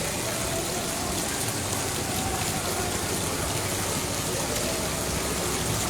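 Heavy monsoon rain in Ramgarh Shekhawati, falling as a dense, steady hiss of constant loudness from start to finish, with no voices breaking through.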